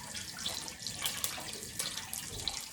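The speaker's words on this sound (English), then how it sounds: "So gotta rinse the rice in a strainer." Tap water runs steadily over rice held in a strainer, a close, continuous hissing splash with small irregular drips and spatters and no talk.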